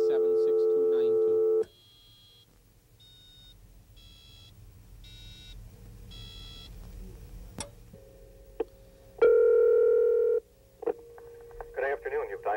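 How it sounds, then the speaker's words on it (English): Telephone dial tone, a loud steady hum heard twice with a quiet stretch of faint beeps and clicks between, followed by short electronic tones. "We release, we get a dial tone."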